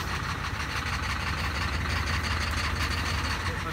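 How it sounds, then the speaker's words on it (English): A low, steady tractor engine idles continuously nearby at a desert race track, a constant rumbling drone with no pauses. "The tractor is just getting going."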